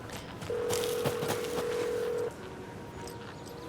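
Unanswered telephone in the Alan Wake 2 video game: a steady electronic ringback tone holds for about two seconds, then cuts off, over quiet game ambience.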